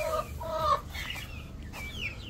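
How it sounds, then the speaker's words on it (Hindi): Blue Orpington hens cluck and call close by in a backyard coop, several short, bright, chattering calls in quick succession over a low background hum. "ये हमारी ब्लू और पिंगटन मुर्गी बहुत बोल रही है"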